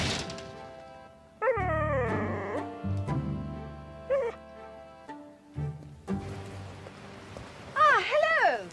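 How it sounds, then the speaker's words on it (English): A stray dog in a Cornish seaside village gives a few whining yelps and whimpers that rise and fall in pitch, spaced out among other background sounds, with a final cluster of yips at the end. "It's just a dog."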